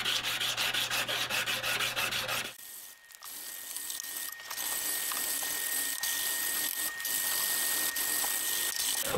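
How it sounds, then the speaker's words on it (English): A knife blade is hand sanded with 120-grit abrasive in quick, close, steady rasping strokes, with a short pause and shift in tone partway through. "hand sanding like this is by far the most unenjoyable part of the process of making a knife"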